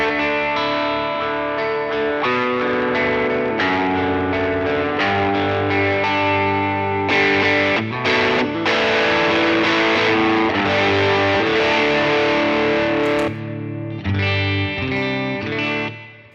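An electric guitar plays through a Jackson Audio Broken Arrow V2 overdrive pedal, giving a thick, sustained distorted tone of strummed chords and riffs that fills the whole passage without speech.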